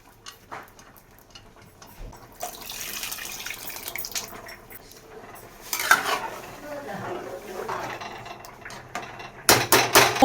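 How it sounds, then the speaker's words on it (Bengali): Potatoes and dal go into a cooking pot, with metallic clanks of pot and utensils, scraping, and a burst of pouring or sliding near the end, close and moderately loud, with no talking. "দিয়ে দিচ্ছি আলু আর ডালটা।"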